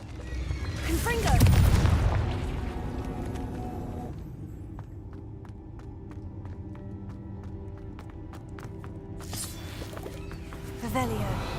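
A Confringo blasting spell in the video game Hogwarts Legacy sets off a deep, rumbling explosion that swells and fades over a couple of seconds, with game sounds continuing under the tail and a further burst near the end.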